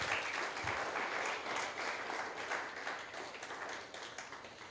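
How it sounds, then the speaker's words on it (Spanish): A church congregation applauds in praise during a worship service, a dense, steady wash of many hands clapping that holds for several seconds and eases off slightly toward the end. "Dale un aplauso al Señor si lo puedes creer"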